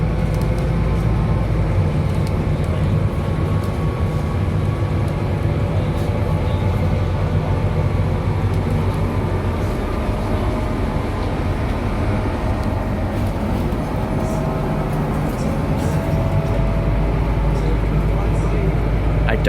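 Steady low rumble of a bus engine throughout a ride along a dual carriageway, constant and close, with a faint onboard announcement partly masked beneath it; no one speaks.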